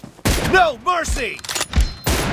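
Gunshots from a shooting video game with M24 rifles ring out as several sharp, loud bursts in quick succession, mixed with an excited voice talking over the fire.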